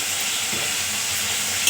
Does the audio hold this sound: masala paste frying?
yes